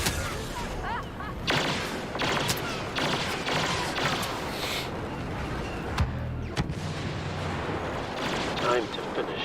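Blaster fire in the Star Wars Battlefront video game, dense and continuous, with sharp repeated shots and thumping blasts over a constant layer of battle noise.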